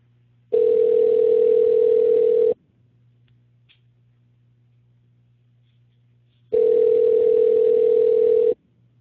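A telephone line rings while waiting for a call to go to voicemail: two loud, steady ringback tones about two seconds long, separated by several seconds of near silence, with no voices.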